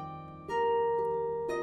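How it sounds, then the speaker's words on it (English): Sustained synthetic tones and chords form a musical representation of the COVID-19 virus spike protein, with soft swells and a fresh attack near the start and end, heard without speech. "What you hear is a musical representation of the virus spike protein"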